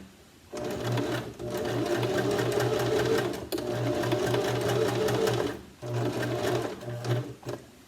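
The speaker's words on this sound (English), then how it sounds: "now I'm on zigzag, I'm on 4, and let's see what the zigzag looks like" A sewing machine set to zigzag at stitch width 4 runs in steady rhythmic bursts, its needle swinging side to side with a fast mechanical clatter, pausing briefly twice before resuming close and loud.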